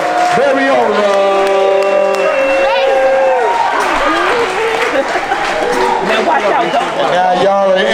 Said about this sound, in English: Everyone clap it up for the Honorable Judge Gail Bereola